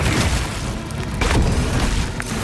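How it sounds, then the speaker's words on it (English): A frag grenade explodes in the Warhammer 40k Space Marine video game, a heavy booming blast with rumbling debris inside continuous loud battle noise. "Throwing frag grenade!"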